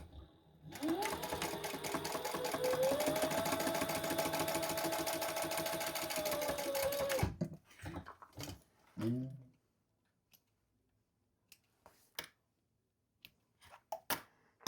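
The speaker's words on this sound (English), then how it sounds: "we're going to stitch that on, top stitch" A sewing machine top-stitches fabric onto a custom white and pink Croc shoe, running in one steady, close, buzzing burst of about six seconds, followed by a few scattered handling clicks and quiet stretches.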